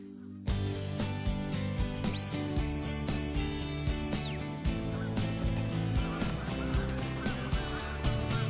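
A handler gives a long, sustained two-tone whistle command to a herding border collie used to drive flocks of big birds away from an airport, heard over a dense, continuous background of honking birds and music.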